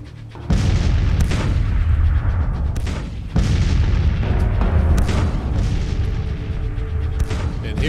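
Artillery bombardment in the Grand Tactician strategy game sounds as heavy booming cannon fire. Loud, close blasts follow one another in irregular succession, each rolling into the next, with no talking.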